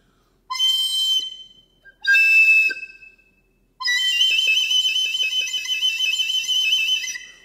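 Flute playing a run of sustained tones broken into three phrases, the pitch shifting as finger holes open and close, with brief soft tapping of keys under the last long passage; clear, close and alone.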